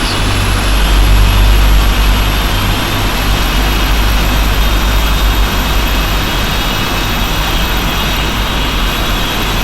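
Jet engines of a PMDG 747-8F spooling up during start in the Prepar3D flight simulator: a loud, steady roar with a thin high whine running throughout, constant with no talk.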